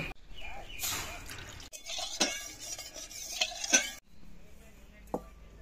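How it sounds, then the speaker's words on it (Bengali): A kadai is rinsed clean in a kitchen: metal scraping and clanks of the wok, splashes and drips of water coming in bursts between short pauses, close and fairly quiet, no talk. "কড়াইটা পরিষ্কার করে ধুয়ে নেব।"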